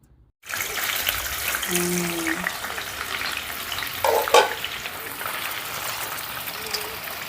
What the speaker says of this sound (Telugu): ఇప్పుడు నాలుగు టీ స్పూన్లు ఆయిల్ వేసామండి దీంట్లో మన పన్నీర్ని ఫ్రై చేసుకుందాం